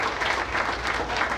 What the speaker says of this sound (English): I just want to give Emily another round of applause for sharing that.